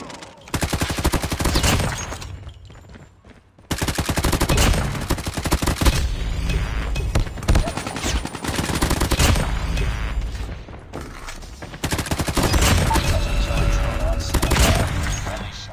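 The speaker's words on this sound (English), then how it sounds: "kill 15 enemies with an assault rifle" Assault rifle fire in Call of Duty Mobile, dense sustained automatic bursts with brief pauses, loud and close, with a voice speaking over the shooting.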